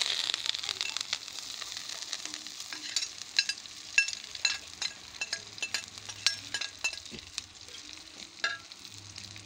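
Mustard seeds and jackfruit leaves frying in a hot pan, with a steady crackling sizzle, scattered seed pops and stirring scrapes at close range, moderately quiet, without speech.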